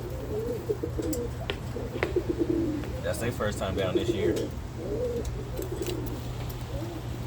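Birmingham Roller pigeons coo in soft, rolling repeated phrases close by, while someone talks over them.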